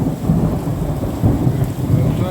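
Heavy rainstorm near Abbeville with a swollen creek: a steady low rumble of thunder rolls under continuous dense rain, loud and close throughout.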